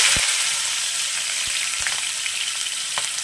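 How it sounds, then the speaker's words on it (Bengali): Pieces of katla fish fry in hot mustard oil with a steady, close sizzle and bright hiss, broken by a few soft pops and no voices. "তেল গরম হয়ে গেছে, এবার আমি মাছগুলো ভেজে নিচ্ছি।"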